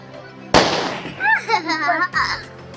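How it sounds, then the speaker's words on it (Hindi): A single sharp firecracker burst during Diwali-style celebrations, close and loud, followed by children's chatter and a second fainter pop near the end. "हाँ भाई पटाखे फूट रहे हैं"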